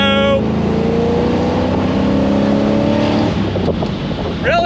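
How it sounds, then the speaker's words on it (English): A 1970 Chevrolet Corvette Stingray 454 V8 revs loud and close, its engine note rising through a pull with heavy wind roar, then easing off near the end. "Really has a great V8 sound."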